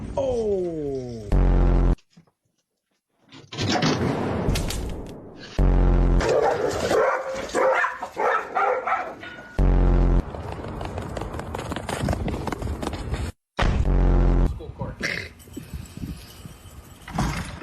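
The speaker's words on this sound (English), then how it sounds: "We brought the dogs with us." Dogs bark in short, loud, close bursts separated by sudden silences, with yelps and other scuffling household noises between them.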